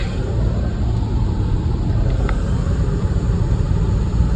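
A 28-year-old 2JZ-engined Lexus cruises across a bridge on the Blue Ridge Parkway, a steady, loud low rumble of engine and road noise filling the cabin without break.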